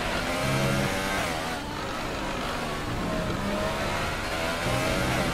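A Formula 1 car, a McLaren, accelerating hard out of a corner in F1 2018 in the wet: a high, rising engine whine climbing through gears with overlapping car engines nearby, steady and loud, with no voices.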